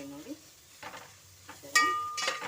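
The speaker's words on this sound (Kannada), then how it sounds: "ಒಂದು 3 ನಿಮಿಷ ಈ ಥರ ಇಲ್ಲಿ ಫ್ರೈ ಮಾಡಿಕೊಂಡ್ರೆ ಚೆನ್ನಾಗಿರುತ್ತೆ." Roasted coconut for a Kundapura-style chicken sambar is stirred in a pan, giving a few short scraping strokes and a light sizzle, with clinks of a utensil against the metal.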